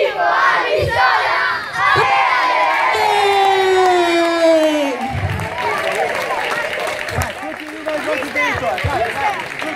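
Albissola football supporters chanting and cheering at a party celebrating promotion to Serie D, a loud sung crowd chant with shouts, fading into scattered cheering and voices.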